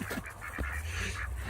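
Domestic ducks calling outdoors in snow, a run of short nasal honk-like quacks near at hand over a steady low background rumble, with no talking.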